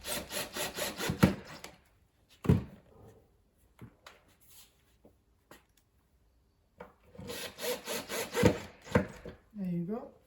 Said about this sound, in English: Just screw them in. Just make sure that they are very nice and tight